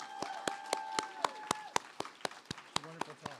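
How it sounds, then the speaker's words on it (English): A small audience gives scattered, sparse applause after a faculty presentation, with distinct individual claps in an uneven rhythm and a voice heard briefly under them. "some more applause for Meg."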